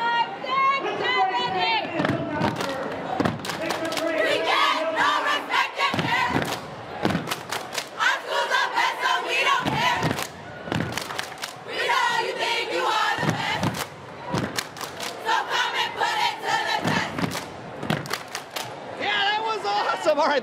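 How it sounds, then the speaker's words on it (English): At a high school pep assembly in a gym, a large crowd roars and chants while rhythmic stomping and thuds echo through the hall, loud and continuous, with a few short breaks between bursts. "as the gym continues to make noise. People are getting pumped"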